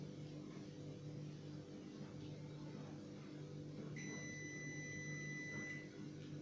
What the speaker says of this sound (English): I think you can hear the beeping sound.